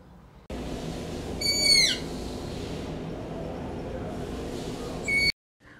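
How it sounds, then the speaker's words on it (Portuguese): Striped owl calling, a few sharp, descending screechy whistles close by, one around the second mark and another near the end, over a steady outdoor background. "Coruja orelhuda."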